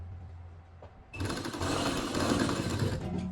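A sewing machine runs continuously, stitching a folded fabric strip onto the back neckline of a garment, starting after about a second of quiet and whirring steadily and close up to the end.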